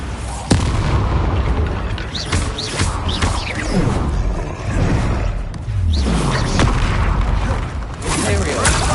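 Repeated Bombarda blasting-spell explosions in the wizarding game Hogwarts Legacy, loud booming bursts recurring over dense continuous combat noise, with spoken spell incantations layered in.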